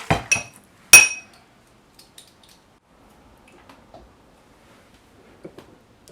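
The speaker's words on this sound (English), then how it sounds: "I mixed the mustard, mayonnaise, sour cream, salt, pepper, sugar, and vinegar together" A utensil clinks against a bowl while mixing a potato salad dressing of mustard, mayonnaise, sour cream, sugar and vinegar: a few sharp, close metallic knocks early on, then faint sporadic taps and scrapes.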